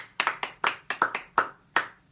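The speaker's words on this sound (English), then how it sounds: "Let's clap it up for her." Hands clap about eight times in an uneven rhythm, each clap sharp and close with a short decay, during an online show about bad credit, with no talking over them.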